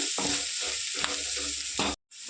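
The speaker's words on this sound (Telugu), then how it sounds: "ఇప్పుడు నేను ఒక స్పూన్ జింజర్ గార్లిక్ పేస్ట్ చేస్తున్నాను అది కూడా నీట్గా ఫ్రై చేసుకుందాం" Ginger garlic paste sizzles steadily with onions in a pan on low heat, a close, continuous frying hiss broken by stirring scrapes and a brief silent gap near the end.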